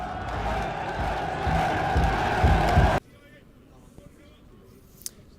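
Home supporters roar and cheer at a Cardiff Met university rugby match, a loud dense crowd swell for about three seconds before cutting abruptly to quiet background with a faint sharp sound near the end.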